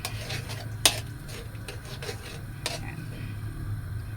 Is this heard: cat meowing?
no